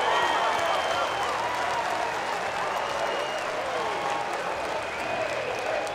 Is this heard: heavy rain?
no